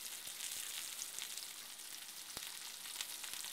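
Raspberry chicken sauce with thyme heats toward a boil in a pan, giving a steady, faint hiss of sizzling with an occasional sharp pop, heard alone without voices.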